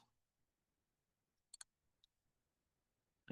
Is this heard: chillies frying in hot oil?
no